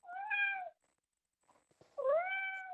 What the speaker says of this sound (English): Nice cat.